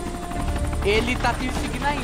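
Helicopter rotor and engine drone from the video game Arma 2, a steady mechanical roar running beneath a voice speaking throughout.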